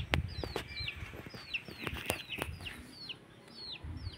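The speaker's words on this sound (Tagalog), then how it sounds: "ang nag-iisang itik" A lone duckling hatched from a clutch of duck eggs in a rural province setting, giving repeated thin high peeping calls at a quick pace, fairly close but soft, with a few light knocks.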